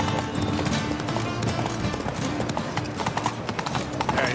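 Horse Roach galloping in The Witcher 3 video game, rapid rhythmic hoofbeats pounding steadily and close, with a busy game soundscape behind them.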